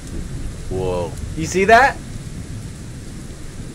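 Rain falling steadily with a low thunderstorm rumble in the ruined city of the video game The Division 2, a constant soft hiss under someone speaking briefly.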